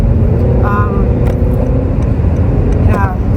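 Steady low road and engine rumble from inside a moving car in Hawaii, continuous throughout with a voice chatting over it.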